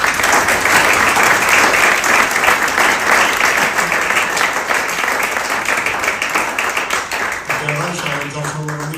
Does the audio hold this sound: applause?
yes